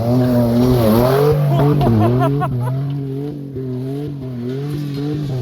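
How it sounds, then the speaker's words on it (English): A car races across a gravel pit toward a big jump, its engine revving hard and rising and falling in pitch, loud and close, with some tire noise and no clear talk. "here he comes for the big gravel pit jump"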